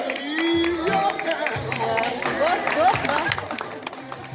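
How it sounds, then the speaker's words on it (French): Audience at a lingerie fashion show breaks into applause and cheering: a steady, dense wash of clapping and crowd noise, with excited voices and a few whoops rising over it throughout. "je vous demande d'applaudir les sous-vêtements féminins"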